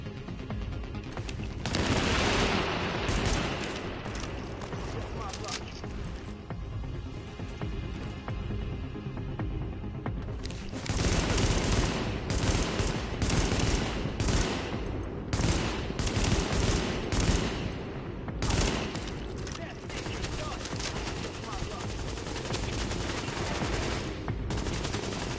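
Sustained automatic gunfire and volleys of shots in Tom Clancy's The Division beta, dense and loud for nearly the whole stretch, with short pauses between bursts and no talking.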